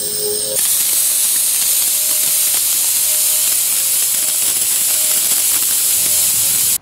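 Compressed air blasts out an inground sprinkler zone during a winterizing blowout, a loud, continuous rushing hiss that starts abruptly and holds steady, with faint mechanical rattling underneath, then cuts off sharply at the end.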